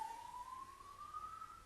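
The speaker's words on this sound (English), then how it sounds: "that siren you heard is probably the devs" A single faint siren tone sweeps slowly upward, thin and distant, under low background noise with no speech.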